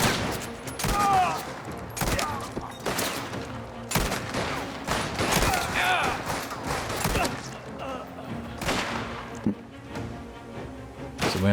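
Gunfire in the Mafia video game, rapid repeated shots and fusillades in close succession throughout, loud and dense, with occasional thuds and game effects between bursts.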